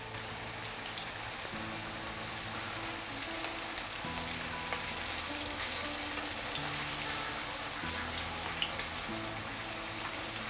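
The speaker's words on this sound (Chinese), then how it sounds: "慢慢去煎炸它" Food shallow-fried in oil in a pan over rising heat, a steady dense crackling sizzle throughout, close and even, with faint background music and no talk.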